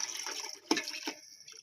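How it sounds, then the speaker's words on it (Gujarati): Water splashes briefly into a pot for prawn biryani, a short close pour with a couple of gurgling bursts. "તો આપણે પાણી નામી દીધું અને પાણી નામી દેવાનું છે"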